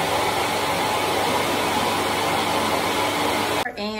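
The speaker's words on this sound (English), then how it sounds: "it blows the air from the dryer to the hood, dries your hair" A hair dryer with a bonnet hood attachment roars steadily with a broad airy rush, then cuts off abruptly near the end as a voice begins speaking.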